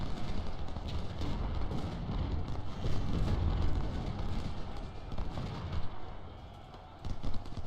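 Massed musket volleys and artillery fire in the Civil War strategy game Ultimate General Civil War, a continuous distant rumble of rolling gunfire and booms with no clear individual shots.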